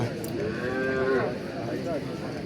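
A cow moos at a crowded cattle market during the sale of animals for the Eid sacrifice, a long wavering low that rises and falls over a steady background murmur of the crowd.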